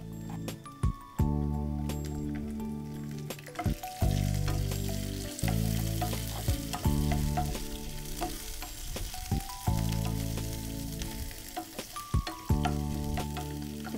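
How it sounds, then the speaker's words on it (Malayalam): Small shallots sizzle and fry steadily in a hot pan, a continuous crackling hiss broken by occasional clinks and stirring, with no voices over it. "അപ്പൊ ഇനി നമുക്ക് അതിലേക്ക് ചെറിയ ഉള്ളി ഇട്ട് കൊടുക്കാം."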